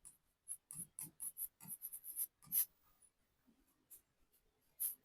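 Chalk or marker strokes on a board come in short bursts of scratchy squeaks and taps. They are close and fairly clear against near silence, with pauses between the strokes.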